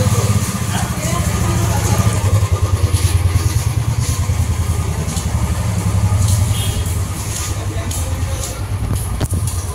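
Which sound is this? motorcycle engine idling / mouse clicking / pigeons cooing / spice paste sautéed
motorcycle engine idling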